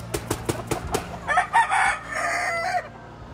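Chickens and a rooster at a game farm, the black hens being of the Penny Hatch gamefowl line: a few sharp clucks open, then a crow rises and carries on at moderate volume, with no speech.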